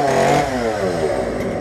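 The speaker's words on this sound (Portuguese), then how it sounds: "você tá com a motosserra aí na porta" A chainsaw runs steadily near a doorway, its buzzing engine drone holding loud and continuous with slight rises in pitch throughout.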